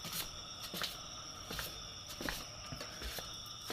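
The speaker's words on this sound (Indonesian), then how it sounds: "Suara langkah kakinya seperti orang buru-buru ya" Hurried footsteps sound at night in a house, several quiet, uneven steps spaced about half a second apart against a faint electrical hum.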